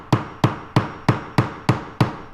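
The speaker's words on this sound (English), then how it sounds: "I'll use a hammer and just kind of tap, see if it wants to separate" A hammer taps a chisel to pry apart hardwood floor boards, seven sharp, evenly spaced strikes ringing close and loud with nothing else heard.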